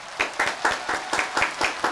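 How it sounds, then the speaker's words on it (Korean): A small studio audience at a Korean job-interview show claps briefly, giving light, rhythmic applause from a few people at close range. "자 일단 두 분 서로에게 박수 주세요."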